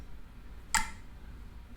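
Metronome set around 56 to 60 beats per minute, two crisp, quiet ticks about a second apart, alone against faint background hiss.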